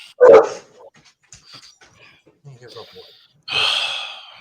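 A dog gives a loud gruff bark near the start, then a few quieter snorts and whimpers, then a longer breathy burst of barking or huffing at the end, all at a mailman at the door.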